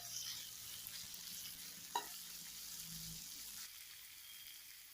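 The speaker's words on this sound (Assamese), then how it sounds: "এতিয়া আদা নহৰু পেষ্টটো দি দিছো আৰু ইয়াত পুনৰ এনেকে লৰাই থব" Ginger garlic paste fries in a pan with a steady, soft sizzle, and a single spoon scrape stirs it once, close and fairly quiet.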